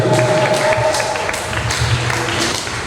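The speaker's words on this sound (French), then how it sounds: "Sous les applaudissements, ça mérite beaucoup d'honneur." An audience applauds steadily at a public event honoring a female pastor and candidate, a dense wash of clapping with faint voices underneath, fairly close and continuous.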